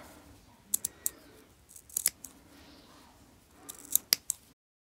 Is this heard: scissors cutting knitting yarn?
yes